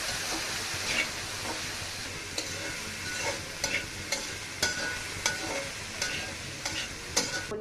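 Green beans, potato and cauliflower stir-fry with turmeric sizzles steadily in a pan while a utensil scrapes and stirs in repeated strokes, close and moderately loud, with no talking.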